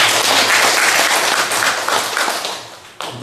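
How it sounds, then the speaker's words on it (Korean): A church congregation claps together in a loud, sustained burst of applause that fills the room, tapering slightly before a brief dip and renewed clapping at the end. "박수 한번 할까요?"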